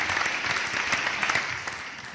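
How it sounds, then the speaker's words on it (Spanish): A round of audience applause at an event, a fairly soft, even wash of many hands clapping that holds steady for a couple of seconds. "un aplauso para Andrés Llena"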